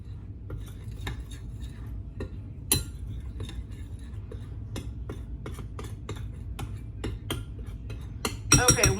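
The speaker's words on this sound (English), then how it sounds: "So you're going to go ahead and stir this all up together." Funnel cake batter is stirred in a bowl. A utensil gives repeated light clinks and taps against the bowl over a low steady hum, and a louder clatter comes at the end.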